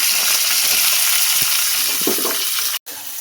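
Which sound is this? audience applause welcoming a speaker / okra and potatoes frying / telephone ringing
okra and potatoes frying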